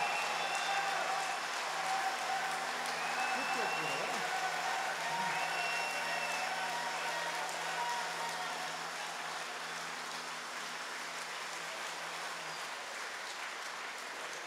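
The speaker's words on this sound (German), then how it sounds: "Es gibt natürlich einen riesengroßen Applaus." Sustained applause from a large crowd at an Oktoberfest gathering in Hartberg after a political speech, a steady dense clapping that holds loud for the whole stretch and eases slightly toward the end.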